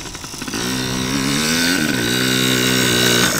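A motorbike rides around a dirt track, its engine a loud, steady buzzing drone that swells up after a brief idle and stays close throughout, with no speech.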